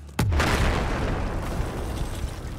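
A heavy explosion in the video game Battlefield 4 hits with a sharp loud blast, then a deep rumbling roar and debris noise that linger without fading for the rest of the moment.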